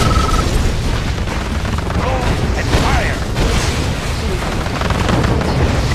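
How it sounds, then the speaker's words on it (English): Missile launch and explosion in the Red Alert 2 strategy game, a loud booming blast with a long rumbling roar, dense and continuous, with unit voice lines over it. "Missile ready. Fire."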